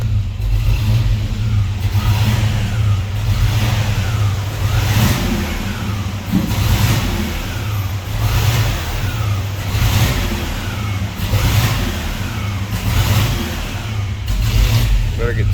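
An LS-swapped Chevy C10 squarebody engine runs with a misfire, the revs rising and dropping in uneven surges as the throttle cuts out; people talk over the steady close engine noise.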